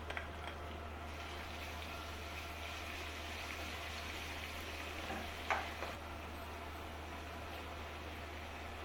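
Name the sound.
garlic and ginger frying in oil for beef biryani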